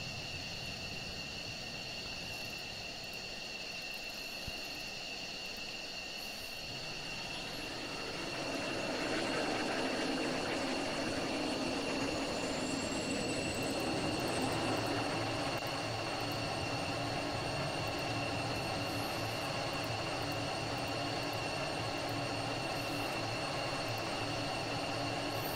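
A jet engine starts up in the Falcon BMS flight simulator, a steady whine with a low rumble that swells partway through and then holds as a constant roar.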